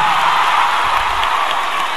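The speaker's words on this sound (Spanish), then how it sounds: "Un gran aplauso a toda la gente hermosa que me acompaña" A large concert audience at a show in Monterrey, Mexico, applauding and cheering in a steady, loud roar with scattered whoops.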